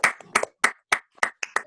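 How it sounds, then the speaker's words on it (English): A small online audience claps for Hilary and Huwe in a few scattered, uneven bursts of hand claps. The claps are close and sparse rather than a full ovation. "All right, can we do a little round of applause?"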